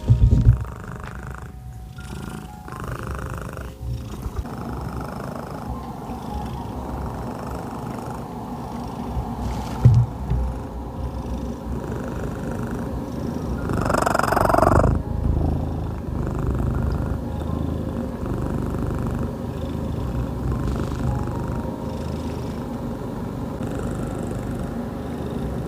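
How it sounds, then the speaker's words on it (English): A cat purrs loudly and continuously nearby, a steady rumbling drone that swells slightly partway through, with a few small handling noises. "My cat is purring so loudly."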